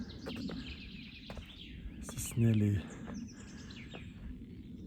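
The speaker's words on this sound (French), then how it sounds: "les oiseaux dans la forêt." Birds chirp and sing in scattered short calls across a quiet outdoor background, with a brief spoken phrase in the middle.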